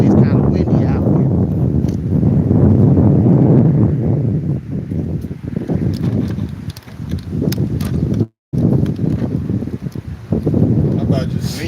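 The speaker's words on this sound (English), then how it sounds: "it's kind of windy out here" Gusty wind buffets the microphone outdoors, a loud continuous low rumble with people talking over it throughout.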